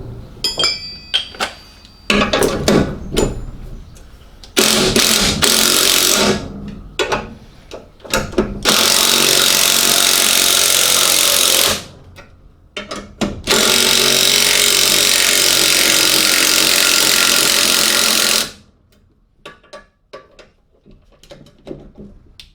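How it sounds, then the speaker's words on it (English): Spring compressors come off VR6 shocks with ratcheting clicks, metallic clinks and two long, loud runs of a power tool, the second lasting about five seconds, followed by quieter tool handling. "Right, we can actually undo the spring compressors."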